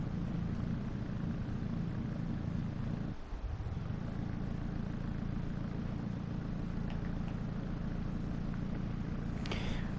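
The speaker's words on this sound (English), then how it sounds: "I should just stop revving the engine" A car engine drones in the Hot Wheels: Universe Zero video game, a steady low engine hum with a brief dip partway through and a short sharp burst near the end, no voices.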